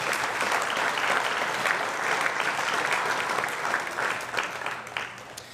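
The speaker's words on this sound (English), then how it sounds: "A big round of applause for this group of inductees tonight." A crowd at an athletics hall of fame induction ceremony claps loudly and steadily for several seconds, a dense wash of applause that tapers slightly toward the end.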